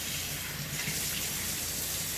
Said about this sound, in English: I take and I stick it under hot water,